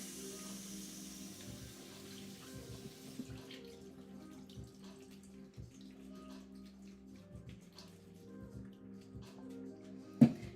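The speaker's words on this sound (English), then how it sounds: "Stop the cooking, cold water." Cold tap water runs steadily from a faucet over strained potatoes in a kitchen sink, a continuous moderate splashing flow with a brief louder knock near the end.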